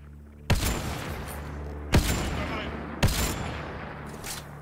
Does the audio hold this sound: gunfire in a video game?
yes